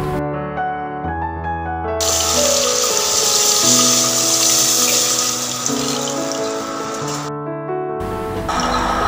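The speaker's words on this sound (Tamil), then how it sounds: "நம்ம புளி கரைச்சி வச்சுருக்க தண்ணியை அதோட வடியிட்டு ஊற்றிக்கலாம்" Tamarind water pours steadily into a clay pot of fish curry for several seconds, a continuous close splashing with a tonal ringing underneath.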